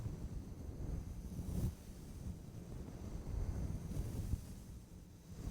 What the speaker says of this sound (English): Do you hear the waves?